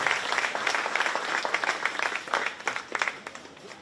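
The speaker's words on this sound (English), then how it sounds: "Let's give those kids a big round of applause that clean up our market gilt division" A crowd claps for the kids of a 4-H market gilt pig show at the Shelby County Fair, with dense, steady applause throughout and scattered louder claps near the listener.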